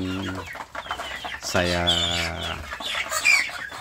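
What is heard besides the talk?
free-range village chickens clucking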